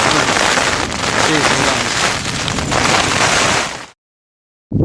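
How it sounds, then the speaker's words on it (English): Heavy rain drumming hard and continuously on a leaky tent during a thunderstorm, with gusts of wind noise, before the sound cuts out suddenly. "Night of rain, thunder, lightning, wind, leaky tent."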